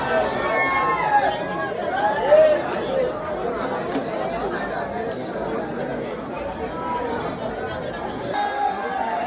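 A dense crowd waits at the Ekvira Aai temple palanquin festival, a steady hubbub of many overlapping voices chattering close and far.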